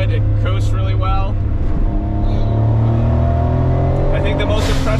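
A Suzuki-built Autozam AZ-1 kei sports car drives along a bumpy road, its small engine giving a steady droning hum with gentle shifts in pitch throughout, close up and continuous, with someone talking over it.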